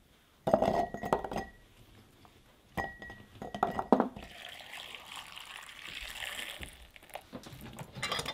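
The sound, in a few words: glass jars clinking while packing garlic for pickling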